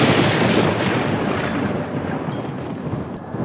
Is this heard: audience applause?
no